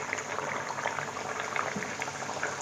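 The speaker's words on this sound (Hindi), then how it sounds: "तो अब इसमें हम जो है एक एक कचौड़ी इसमें डालेंगे इस तरह से।" Kachori dropped one by one into hot oil bubbles and fizzes steadily with a dense, continuous seething, close and fairly loud, with no talking over it.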